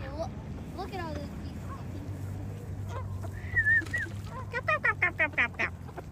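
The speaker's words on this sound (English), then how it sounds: "Oh, look at all those" A flock of geese passing overhead in a residential neighborhood, with a series of honks and squawky calls growing louder toward the end in quick bursts, heard over steady background hum while people talk excitedly.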